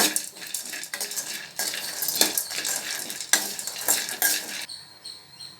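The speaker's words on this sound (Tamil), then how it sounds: "ரெண்டு நிமிஷத்துக்கு எண்ணெயிலே அப்படியே வதக்கி எடுத்தாச்சு." A spoon scrapes and stirs lentils sizzling in hot oil, with bursts of scraping clatter over a soft steady fry.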